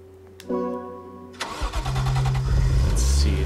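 Gran Turismo 6 video game sound of a Lexus-style Aristo standard car engine cranking and catching, then settling into a steady mid-pitched idle with a brief rev, loud and close with no talk.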